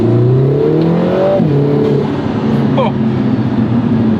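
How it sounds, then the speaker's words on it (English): Lotus Emira with a turbocharged four-cylinder engine pulling hard on an open road, its rising and falling engine note close and loud, with a brief high whistle, and a voice exclaiming once over it. "Still in love with those turbo sounds."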